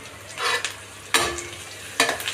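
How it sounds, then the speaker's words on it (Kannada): Green chillies from a home garden hit hot oil in a pan and are stirred, giving a steady sizzle broken by three sharp scraping stirs of the spoon, close and fairly loud, with no voices. "ಇವಾಗ ಒಂದೆರಡು ಹಸಿರು ಮೆಣಸಿನ್ಕಾಯಿ ಹಾಕ್ತಾಯಿದ್ದೀನಿ"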